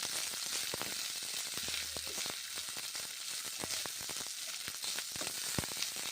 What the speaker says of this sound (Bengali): এবারে কষে নেবো মশলা, তেল আর সজনে ডাঁটা ভালো করে কষে নেবো এইভাবে